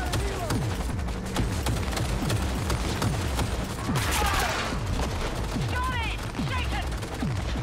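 Rapid automatic gunfire in Cyberpunk 2077 rattles in sustained bursts with booming impacts, loud and close. A voice talks over the shooting.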